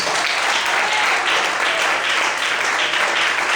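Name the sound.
stronger applause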